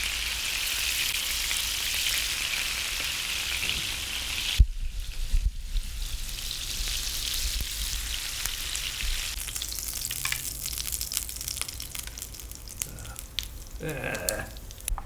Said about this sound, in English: So our sausage patties are seared off